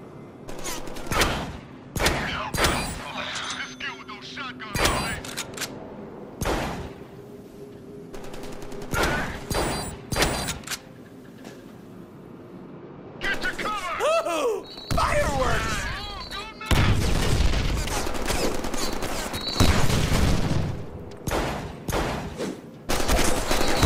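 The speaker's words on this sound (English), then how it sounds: "No wonder the cops are always blasting me with these things. Shotguns rock!" Shotgun blasts and gunfire in the Deadpool video game, a rapid burst of sharp, loud shots mixed with mechanical clatter and crashes, heard under talking and game sounds.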